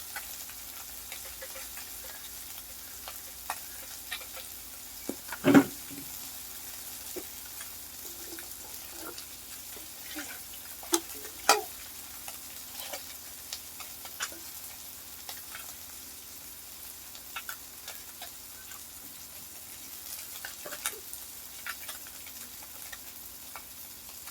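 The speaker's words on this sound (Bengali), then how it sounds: "এবার আমি চিংড়ি মাছগুলো কড়াইয়ের মধ্যে দিয়ে মাছটাকে ভেজে নেবো হালকা করে" Prawns fry lightly in a kadai, giving a soft continuous sizzle dotted with sharp oil pops and crackles, plus one louder knock from stirring, close and quiet throughout with no talking.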